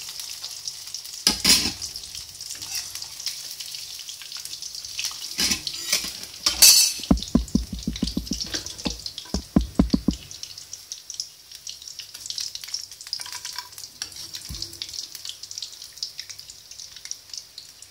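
Paneer cubes frying in hot oil, with a steady sizzle throughout and clusters of sharp clinks and scrapes of utensils against a pan in the middle.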